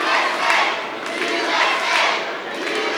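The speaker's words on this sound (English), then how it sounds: "You hear the USA chants." Wrestling crowd at an independent pro wrestling anniversary show, a dense mass of voices swelling in rhythmic chant waves about once a second, loud and steady, filling the hall with no clear speech over it.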